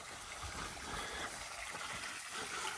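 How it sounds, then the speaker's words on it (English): Water pours steadily out of a tree beside a coastal walking path on the Isle of Arran, a continuous close gushing and splashing rush with no talking. "This is just water coming out of a tree."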